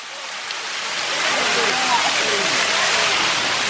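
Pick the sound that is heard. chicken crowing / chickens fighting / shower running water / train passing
shower running water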